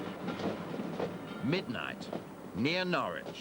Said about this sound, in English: a special electrification works train is moving into place